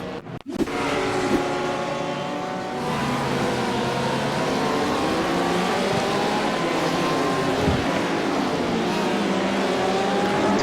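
Several race cars in the iRacing sim, GTE and GT3 machines at Donington, ease off and slow on track under yellow flags, a steady layered engine drone with shifting pitches and a brief low thump near the start.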